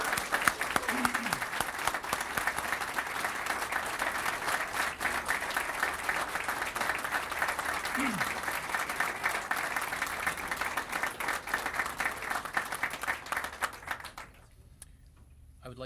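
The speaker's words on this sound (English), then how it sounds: "take a moment and applaud this extremely distinguished and honorable political" Sustained audience applause at a formal gala soirée, a dense, even wash of many hands clapping that holds for about fourteen seconds before stopping abruptly.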